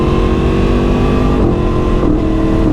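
A Yamaha MT-10 motorcycle, just repaired after engine failure, on a test ride: a loud, continuous engine drone with brief dips in pitch as the rider accelerates and shifts.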